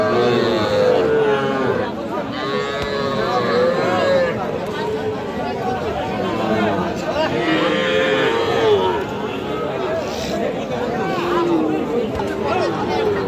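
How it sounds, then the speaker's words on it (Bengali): Nepali Gir breed heifer calves at a busy cattle market call out in repeated bellowing moos, several overlapping across the stretch, amid steady crowd chatter and people talking close by. "নেপালি গির জাতের একটা বকনা কিন্তু।"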